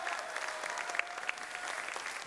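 An audience applauds a departing People's Artist in a studio music programme, giving a steady round of clapping throughout with no voices over it.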